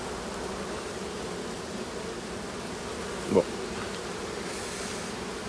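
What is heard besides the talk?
bees buzzing around a beehive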